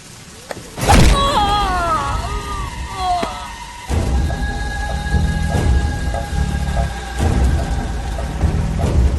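Heavy rain falls steadily, with a sharp crack of thunder early on followed by a rumbling roll, and continuous patter and thuds of rain on surfaces through the rest.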